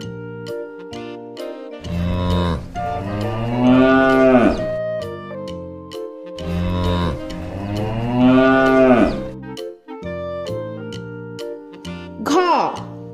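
Cow and calf in a children's alphabet cartoon let out two long, drawn-out moos a few seconds apart, set against a bright musical backing with a short bleat-like call near the end.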